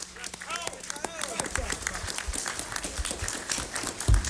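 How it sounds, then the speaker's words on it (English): Audience applause and cheering welcoming attorney Malik Zulu Shabazz on stage at a rally, a dense crowd roar with clapping under a brief announcer's voice near the start. "Bring him on with a hearty round of applause, Malik Zulu Shabazz."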